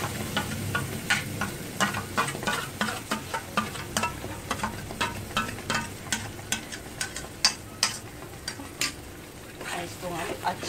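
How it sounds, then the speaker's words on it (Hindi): Masala paste for matar paneer frying in a pan over a high gas flame, a steady sizzle broken by repeated sharp scrapes and clinks of a spoon stirring against the metal. "इसको हम अच्छे से फ्राई करेंगे। गैस का फ्लेम तेज कर देंगे और इसे हम अच्छे से फ्राई करेंगे।"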